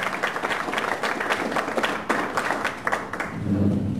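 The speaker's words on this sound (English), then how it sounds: "So let's give him a big round of applause." An audience at a tech meetup applauds to welcome a speaker, steady clapping from a modest crowd that sustains for several seconds before thinning, with a faint low hum near the end.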